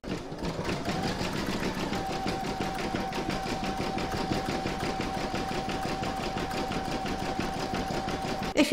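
An embroidery machine stitches the bottom section of an in-the-hoop mandala placemat, a steady fast rapid-fire needle clatter with a constant hum running loud and unbroken throughout, no voices.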